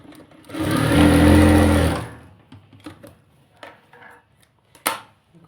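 A sewing machine runs in one steady burst of about a second and a half while stitching lining into a salwar, then stops, followed by faint handling clicks and small taps of fabric.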